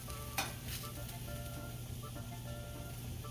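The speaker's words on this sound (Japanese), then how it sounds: "こんな感じでローストをしていくんですけど、この焦げが全体に行き渡るぐらいどんどん焦げを作っていきます。" Vegetables for Mexican salsa roasting in a pan, giving a steady close sizzle and crackle with light stirring scrapes, continuous and fairly quiet, no voices.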